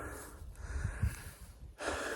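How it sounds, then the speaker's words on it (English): Close, heavy breathing after climbing a steep hill, with rough gasps and snorting exhales, labored and uneven, with no talking. "Don't mind my heavy breathing."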